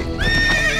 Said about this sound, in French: C'est les chevaux qui parlent en fait.